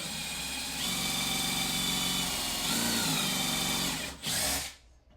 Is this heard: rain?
no